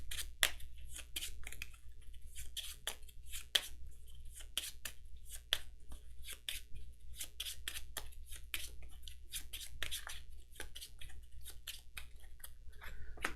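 A deck of cards for a board game is shuffled by hand in a quiet room, with rapid, irregular papery snaps and flicks close up that continue steadily for over ten seconds.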